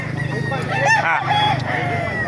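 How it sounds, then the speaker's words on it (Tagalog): Chickens and roosters crowd a poultry market in Baliuag, Philippines, clucking and crowing loudly and continuously over a constant din of birds. "napakarami po manok dito"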